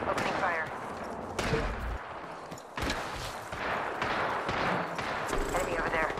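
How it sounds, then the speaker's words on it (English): Heavy automatic gunfire from the Apex Legends video game rattles in loud, dense bursts with sharp impacts throughout, in-game voice chatter running underneath. "Opening fire."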